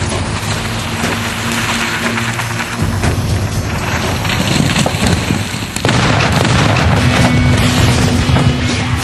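Thermite burning through a car and igniting eight gallons of petrol in its tank into a huge fireball, a loud continuous roaring blast of rumble and crackle that sustains and intensifies.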